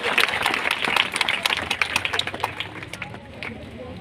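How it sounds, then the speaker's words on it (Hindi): A small group claps for a student in a classroom session on disaster management, a brief burst of close, uneven hand claps that thins out and fades after a couple of seconds. "कोमल, कोमल के लिए जोरदार तालियां बजा दो।"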